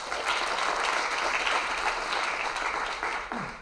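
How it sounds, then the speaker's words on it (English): A crowd at the 2016 Young African ConneXions Summit gives the young African leaders a sustained round of applause, dense and even throughout before easing off at the end. "Please, a round of applause for the Yalis."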